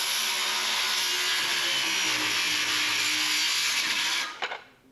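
A power saw blade cuts through wood while making a tongue-and-groove mobile wall, a loud, steady whining roar that runs for about four seconds, then stops abruptly with a brief rattle as it winds down.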